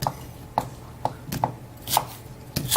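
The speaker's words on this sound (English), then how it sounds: "Just a light chop." A knife chops shallots and red and yellow peppers on a board in six crisp, evenly spaced strokes, close and clear over a quiet kitchen background.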